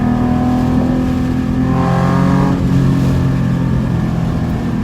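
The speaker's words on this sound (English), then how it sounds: "Have you tried revving it fully?" A Nissan 300ZX with a straight-pipe exhaust idles loud and rough, then revs up briefly with a rising, buzzy engine note before settling back to a steady drone.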